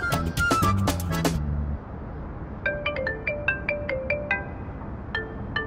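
A phone ringtone plays as a bright melodic tune: a loud, fuller opening phrase, then a brief pause and a lighter repeating pattern of chiming notes, heard alone without talk.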